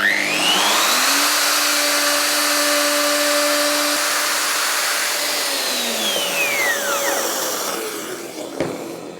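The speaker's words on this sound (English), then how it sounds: "I can run across this piece now and do a cut with this big cutter" A wood router fitted with a big cutter screams at full speed through a workpiece in one continuous pass, then spins down and stops, a brief clunk at the end.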